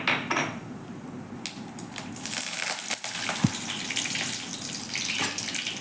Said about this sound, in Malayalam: കരിവേപ്പില താളിച്ചു.